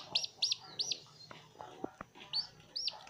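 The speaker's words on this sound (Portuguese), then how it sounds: "Um marreco e um pintinho de sedosa." A newly hatched duckling and a fluffy silkie chick peep from close by, with about six thin, high-pitched chirps in an uneven rhythm over a quiet room.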